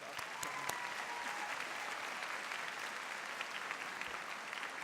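Graduation ceremony audience applauds an award honoree, a continuous wash of many hands clapping from a large crowd, evenly sustained and somewhat distant, with a few closer claps early on.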